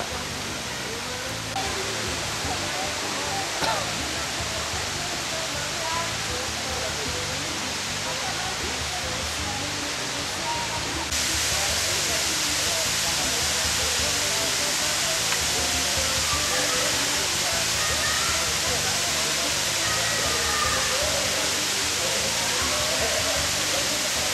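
Waterfall cascades on Réunion Island give a steady, loud broadband rush of falling water throughout, rising in level partway through, with no clear talk over it.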